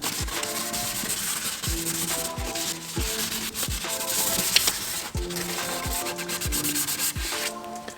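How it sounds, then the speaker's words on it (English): Oxidized plastic headlight being wet-sanded by hand with 600 grit sandpaper, a close, steady back-and-forth rasping in an even rhythm that continues for the whole stretch with no talking. "I'm just going crazy with the 600 grit because I want to be able to sand this headlight"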